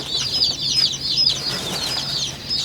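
Baby ducklings in boxes give high, rapid peeping chirps that overlap in a busy, continuous chorus close by, with faint rustling underneath.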